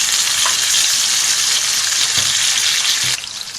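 Okra sizzles loudly in a pan as tomato and green chilli go in, with a steady bright frying hiss, a little stirring and a sudden drop in intensity near the end.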